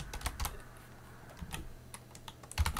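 Someone types a search term on a computer keyboard in Ubuntu Linux, with a handful of quiet, scattered keystrokes in light bursts, close but soft, no voices.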